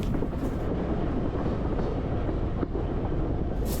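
A steam engine train running on the Isle of Wight, a dense continuous rumble of wheels and carriages rolling steadily and loudly, with no voices.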